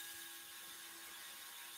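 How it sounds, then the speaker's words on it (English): Small rotary tool with a burr carving fullers into a stiletto tri blade, a steady high-pitched whine running continuously throughout without breaks, close and fairly loud. "And you'll also hear I'm not running the machine as fast."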